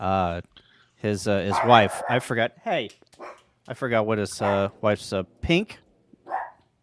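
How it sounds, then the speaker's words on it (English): A dog barks several times in the background during an evening ham radio campfire chat, its yaps partly buried under someone talking close by. "The dog's barking at something."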